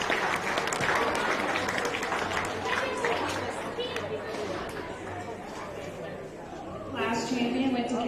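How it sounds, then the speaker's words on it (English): Audience clapping for the kids at a county fair beef show in an arena, a steady wash of applause mixed with crowd chatter and movement, swelling again near the end. "Let's give those kids a big round of applause"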